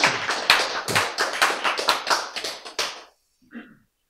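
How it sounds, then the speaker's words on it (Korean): A lecture audience claps, a run of quick, close, uneven hand claps that stops abruptly and is followed by a brief faint sound after a short silence. "박수!"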